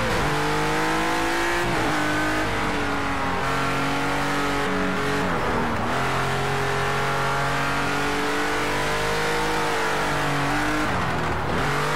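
A race car engine drones and revs loudly through gear changes in Project Cars 2, a continuous whining tone with pitch dips between shifts. Any tyre squeal is buried under the engine.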